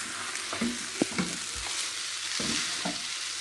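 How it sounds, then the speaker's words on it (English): Rice for Nigerian fried rice sizzles steadily in a hot pan while a utensil scrapes and stirs, with a few sharp clinks against the metal; no talking. "Some people like frying it, like me, I like frying my rice."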